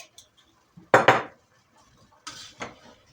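A cooking pot in a village home kitchen, seasoned with red pepper flakes and salt, has its lid set down in two close metallic clanks, with a softer second pair of knocks a moment later.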